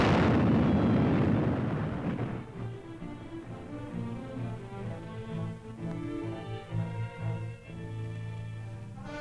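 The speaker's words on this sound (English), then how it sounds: "When an overhanging section of the cliff becomes a hazard to the men working below, it is blasted away." A loud explosive blast in the Arctic blows away an overhanging section of an ice cliff. A broad roar opens the clip and fades over about two seconds into a lingering rumble under steady tonal music.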